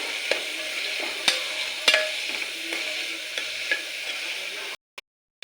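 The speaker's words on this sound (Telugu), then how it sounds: "అందులో ఇలా ఆనియన్స్ వేసేసుకుని కొంచెం ఉప్పు వేసుకుని బాగా మిక్స్ చేసుకుని మూత అనేది పెట్టుకుందాం." Onions with salt fry in hot oil for a mutton curry, giving a soft, steady sizzle with a few sharp clicks of a stirring spoon. It cuts to silence near the end.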